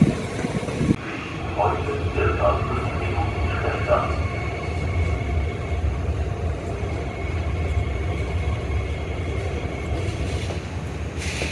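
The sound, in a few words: train arriving at station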